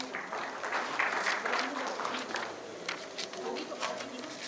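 An audience applauds at a Republic Day celebration at a university, a dense sustained patter of many hands clapping at moderate distance, fading slightly toward the end.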